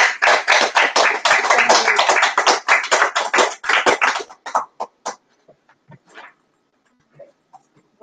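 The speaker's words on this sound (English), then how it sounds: "So I just want to give everybody a round of applause" Audience applause at an evening live talk: dense, loud clapping fills the room, then thins out and dies away into a few scattered claps.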